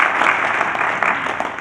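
An audience at a Colorado opioid abatement conference panel claps in a steady burst of applause, loud and dense, with no talk over it.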